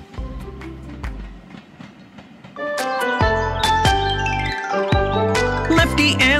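A cartoon train rolls along the rails from the kids' show Leo the Truck, with rhythmic clatter, bright chiming bell-like tones and upbeat music growing louder midway.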